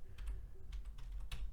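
A project name typed on a computer keyboard, a quick run of close, soft key clicks in an irregular rhythm, with no voices and nothing else in the background.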